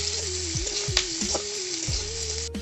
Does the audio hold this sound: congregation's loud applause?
no